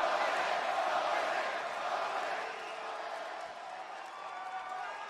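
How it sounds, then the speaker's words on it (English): A wrestling arena crowd reacts to Hulk Hogan's entrance at a live WWE Raw show, a loud, dense roar of cheers mixed with scattered boos that stays steady and slowly eases over a few seconds. "I hear some boos, but there's a lot of cheering going on for the Hulkster"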